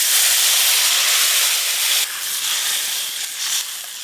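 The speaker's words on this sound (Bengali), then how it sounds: "কাসন্দির টকের জন্য কালো জিরে ফোড়ন দিয়ে দেবো" Black cumin seeds tempering in hot oil for a tangy hilsa roe curry with mango kasundi, a loud steady broadband sizzle and hiss that softens slightly midway and continues without talk.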